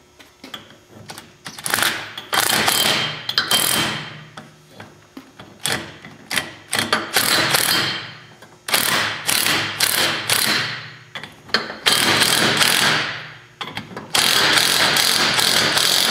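A ratchet tightens a bolt on a Craftsman vise, its pawl clicking in quick bursts of rapid strokes with short pauses between, close and loud.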